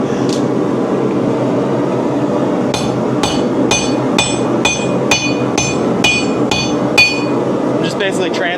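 Hot steel being hammered on the horn of an anvil during beginner knife making: about nine evenly spaced, ringing blows over a steady background hiss, with quieter pauses before and after the strikes.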